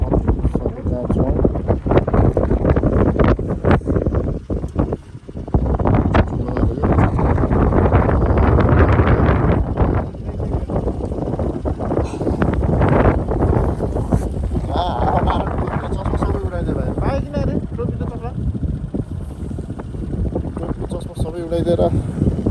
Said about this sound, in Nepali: सबै उडाइदिएर यस्तो चल्यो नि हावा